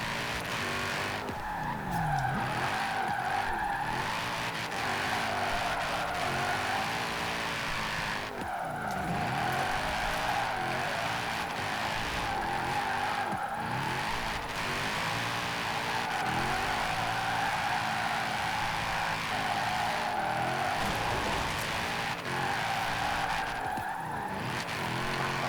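Mercedes-AMG GT R drifting in Forza Horizon 4, a 30-pound-boost drift build, with a continuous engine roar and repeated tire squeal through slides over about 25 seconds, loud and steady.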